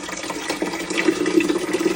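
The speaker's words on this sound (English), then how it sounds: "To fill it up, you just lift this little lid and pour the water in." Water is poured into the reservoir of a countertop ice maker, a steady splashing trickle with small gurgles that stays close and moderately loud throughout.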